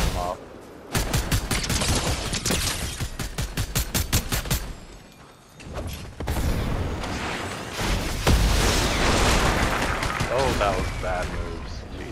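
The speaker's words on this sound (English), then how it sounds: "All now we're getting shot in the back, though." Gunfire in Fortnite: rapid bursts of automatic shots crackle in quick rhythmic volleys, pause briefly, then resume as denser, heavier firing mixed with impacts, while a player talks over the action.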